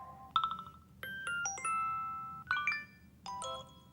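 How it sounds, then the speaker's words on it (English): New iOS 7 ringtones and alert tones play in turn: bright chime-like notes and short melodic phrases, clean and close, separated by brief gaps with no talking. "So a lot of new ringtones."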